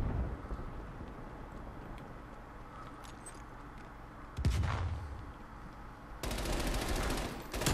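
A grenade goes off in a video game with a sudden heavy blast rising out of a steady rumbling battle din, followed shortly by a burst of harsh crackling noise.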